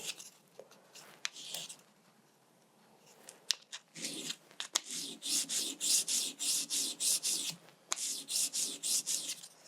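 Quiet scattered scratches give way to a run of rhythmic rubbing strokes, sanding the back of a wax piece back and forth at a steady pace, close and fairly soft.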